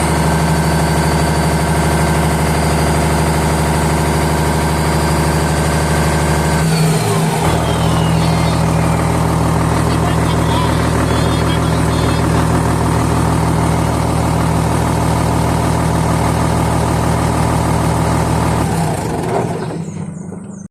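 A Komatsu D65EX-15 bulldozer with an overheating problem runs its engine at a steady, droning pitch. The sound dips briefly early on, then holds without climbing in revs before cutting off near the end.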